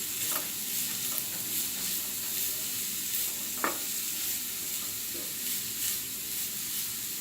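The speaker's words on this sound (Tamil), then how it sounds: "இந்த மாதிரி நல்லா ரொம்ப நேரம் நெய்யிலேயே ஃபுல்லாக வதக்கணும்." Grated carrots sautéed in ghee for carrot halwa give off a steady, soft sizzle while a spoon scrapes and stirs the pan with a few brief clinks, close and unhurried.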